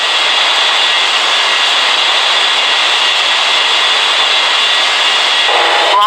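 Delta airliner jet engines at Springbrook airport roar in a steady, loud, broadband rush that holds evenly throughout, with a brief rising whine near the end.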